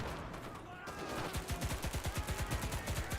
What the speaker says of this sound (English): the recoil on this MP18 is so bad